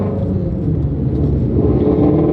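A Shelby GT350R's engine rumbles and revs steadily up close through a gear change, with a deep continuous drone building slightly louder toward the end.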